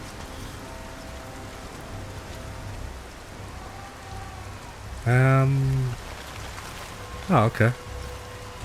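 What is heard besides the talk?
rain falling in the video game Nioh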